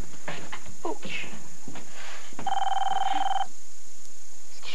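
A telephone rings once in a cartoon episode, a steady electronic ring lasting about a second, loud and close, after several scattered knocks and bumps.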